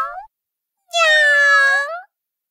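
A cat meows twice in a children's Bible story about creation: a short cry at the start, then a longer, louder, clear meow after a pause, with no speech over it.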